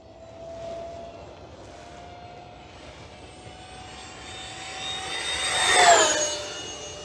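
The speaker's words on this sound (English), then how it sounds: "This thing is a smooth flying plane," An E-flite A-10 Thunderbolt V2 RC jet with twin 64mm ducted fans, running on a 6S battery, whines steadily as it approaches, rising into a loud whooshing pass near the end before starting to fade.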